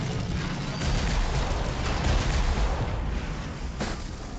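Oopa gun firing in the Warhammer 40k Armageddon video game, a steady rumbling barrage of gunfire and blasts with a sharper report near the end, loud throughout with no voices.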